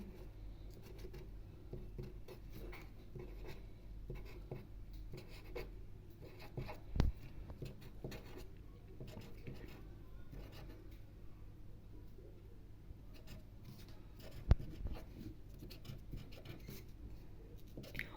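Handwriting on paper or a board during a maths lesson: steady soft scratching and rubbing strokes, close and faint, continuing with no talk over it.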